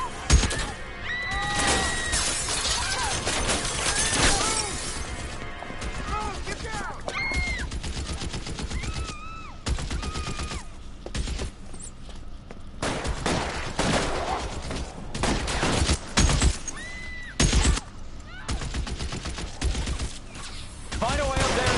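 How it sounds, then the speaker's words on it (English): Heavy gunfire in L.A. Noire, dense volleys of shots and rapid bursts continuing throughout at close range, with horse whinny-like squeals and a voice occasionally speaking. "They are shooting."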